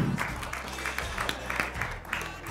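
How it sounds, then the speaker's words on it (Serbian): An audience applauds at an inclusive workshop, with a burst of rhythmic clapping that carries on evenly and sits close and loud. "Molim vas jednim aplauzom da pozdravite sve."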